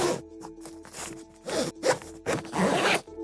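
Zipper on a Level8 carry-on suitcase packed with beach towels being pulled closed in a series of quick, loud rasping strokes with brief pauses between them, close up and without talk.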